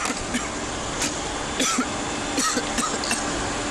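A police officer coughs several times in short, harsh bursts after a spray is released, spaced irregularly over a constant background hum like an idling engine.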